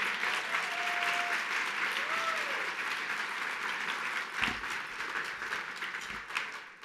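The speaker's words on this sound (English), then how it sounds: "Let's go all give him a big round of applause." Sustained applause from a gala audience at the HRC New York Gala honoring Chad Griffin, a broad wash of many hands clapping steadily for several seconds, with a faint tone and a voice briefly underneath.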